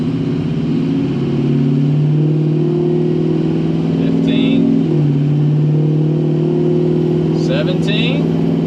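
A newly bought turbocharged car's engine revs up with boost building, a steady loud drone that rises and dips, with someone talking over it.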